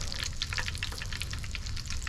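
Mozzarella sticks sizzle and crackle in hot frying oil, a quiet, steady spatter of tiny pops throughout.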